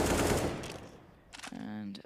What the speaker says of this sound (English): a lot of bullets spent towards that smoke